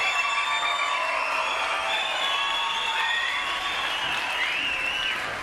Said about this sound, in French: Formidable, applaudissements pour elle, mesdames et messieurs.